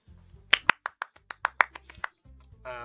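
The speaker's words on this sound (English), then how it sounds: "The four of us applaud." Video game applause from a small group of four, a quick run of about a dozen crisp, separate claps over a soft low music bed that drops out and returns.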